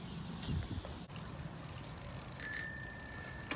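A bicycle bell rings once during a seaside bike ride, a bright metallic ring that stands out against quiet outdoor background noise and slowly dies away.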